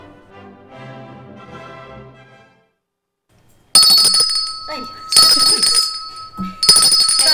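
A pair of bells ring out loudly in bright, sustained metallic tones, struck in several separate bursts after a stretch of quieter background sound.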